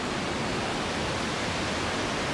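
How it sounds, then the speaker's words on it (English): Steady broadband rush of a waterfall pouring over rocks beside a nature trail, a continuous, even roar with no voices. "Hear that noise? That's waterfalls on the rock."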